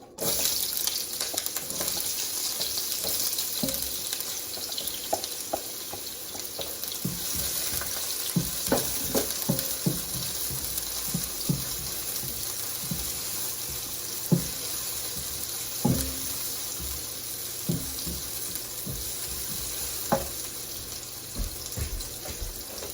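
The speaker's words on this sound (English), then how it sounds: "I put the olive oil there, make sure it's warm enough, and I'm gonna put my onions first" Onions fry in warm olive oil in a home kitchen pan, a steady hiss and crackle running throughout, punctuated by scattered utensil clicks and knocks.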